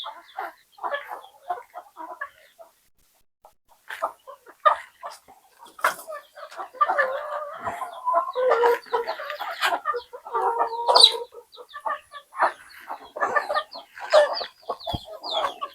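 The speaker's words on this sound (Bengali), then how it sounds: "আজকে আমার দেশি মুরগির খাবার দিতেছি" Free-range native chickens cluck and murmur while being fed, starting with sparse close clucks and building into a busy, overlapping flock chatter with sharp pecking-like clicks.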